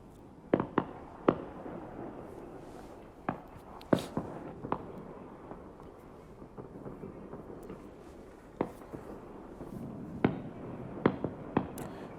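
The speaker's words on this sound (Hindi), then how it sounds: "पटाखे छूटते हुए नजर आ रहे हैं" Diwali firecrackers bursting across Kullu town, sharp separate cracks and bangs popping at irregular intervals, some near and loud, others fainter, over a low steady background with no talk.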